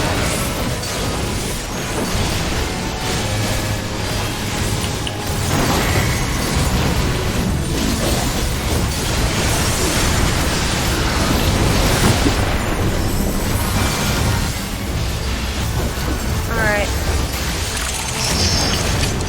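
Delayed flare explosions in the Final Fantasy XIV: Shadowbringers video game, a dense, loud run of booming blasts and crashing impacts that goes on for the whole stretch with no pauses, no speech.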